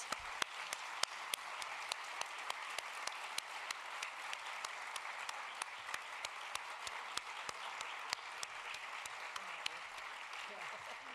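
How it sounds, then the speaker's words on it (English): A crowd at a city candidate forum applauds the candidates, with sharp individual claps standing out from a steady, somewhat distant patter of clapping that holds for about eleven seconds. "We could give these candidates a round of applause."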